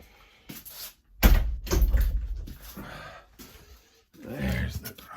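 Back door into a garage opening, with clunks and a rattle followed by a longer scraping, sliding swing and a later shuffling rustle, close and moderately loud.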